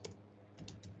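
Soft computer keyboard typing during an online meeting recording, a few faint scattered keystrokes over a low steady background hum.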